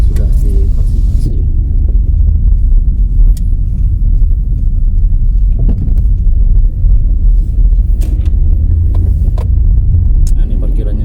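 A car rolls along toward a parking area, its engine and road rumble steady and close throughout, with wind buffeting the microphone and a few faint clicks on top.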